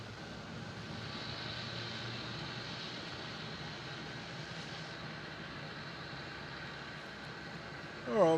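Airliner departing on runway 27 at Melbourne Airport, heard as a steady, distant engine roar that holds at a low level and ends with a brief louder noise.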